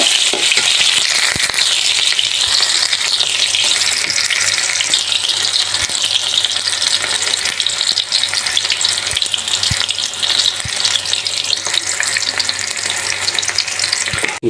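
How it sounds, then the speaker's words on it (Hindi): Onions frying in hot oil for a chicken karahi, a loud, steady sizzle running unbroken throughout, with a few faint clinks of a utensil against the pan. "आपको पहले ऑयल को गर्म करना है, उसके बाद आपको इसमें प्याज डालना।"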